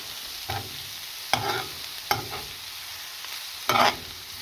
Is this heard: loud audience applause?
no